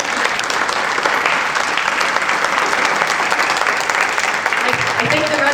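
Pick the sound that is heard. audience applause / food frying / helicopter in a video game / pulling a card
audience applause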